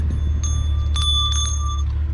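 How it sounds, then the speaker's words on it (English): A small brass bell found while trash picking rings out clearly, with sustained bright tones striking twice and fading over a low background rumble, no talking. "ring that bell"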